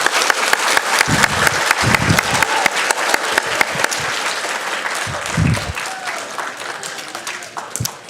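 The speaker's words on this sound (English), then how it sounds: "Boys and girls, let's give a round of applause to our first grade friends." Children and staff at an elementary school awards assembly applaud first graders. The clapping is loud, full and continuous for about eight seconds, with a few low voices rising briefly under it.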